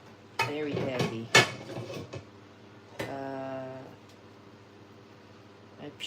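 A heavy cooking pan being handled while adobo is cooked, with metallic clanks and scrapes against pots and utensils, a loud bang, then a ringing scrape.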